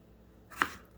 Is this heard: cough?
no